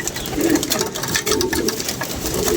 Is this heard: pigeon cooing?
yes